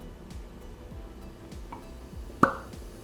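A plastic cork pulls free from a bottle of St Nicholas Abbey rum with one short, soft pop, close by, against a quiet background with faint scattered clicks.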